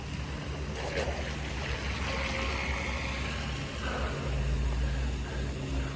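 Small RC micro boat with an underpowered motor running across open water, a steady, fairly quiet motor whine over continuous splashing and wash, with no voices.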